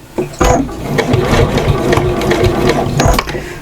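A sewing machine runs a short back stitch while sewing a fabric storage system, a loud close mechanical whirring with rapid needle clatter that runs steadily for a few seconds.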